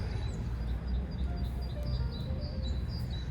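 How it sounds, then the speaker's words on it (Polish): Small birds chirp at bird feeders hanging outdoors behind a secondhand shop in Germany, faint high tweets scattered over a steady low rumble of wind or traffic. "na pewno podjadają sobie tam ptaszki w tych karmnikach"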